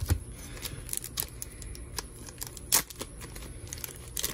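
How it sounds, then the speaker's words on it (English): Adhesive tape is peeled off a hand and crumpled up at a table while sorting trading cards, giving a string of close, crisp crinkles and tearing snaps with one louder rip partway through. "Let me get rid of that tape out of my hand."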